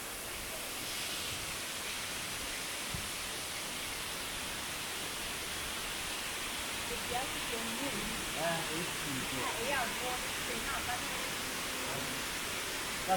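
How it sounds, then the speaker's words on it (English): Several waterfalls pooling at the foot of a canyon in Ghana give a steady, broad rushing roar, with faint chirps and voices scattered over the constant water noise. "At the foot of the canyon is where the multiple waterfalls pool together."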